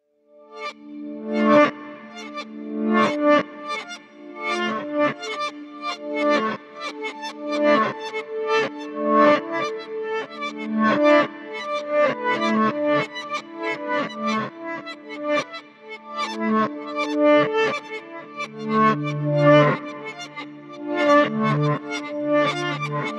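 Emergence Audio Violin Textures sample instrument plays its reverse correlated patch, a dense, shimmering run of bowed violin layers with swelling, effected notes that pulse on and off for over twenty seconds with no voice.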